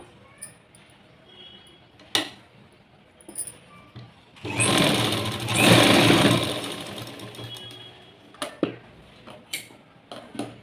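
A sewing machine runs in a short burst of a couple of seconds, stitching tucks on a blouse, heard close, with quieter clicks and handling noises before and after.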